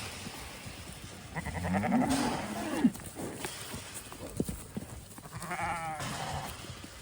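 Sheep bleat a few times at close range, wavering calls rising over light rustling and shuffling on the ground.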